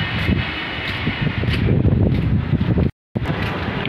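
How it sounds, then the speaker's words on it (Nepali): Strong wind in Bahrain gusts and buffets in loud, uneven surges, rattling and rustling nearby loose things, with a sudden brief dropout near the end before the blustering resumes. "हावा दामी खेलिरहेको छ, भित्रको सबै हल्लिरहेको छ"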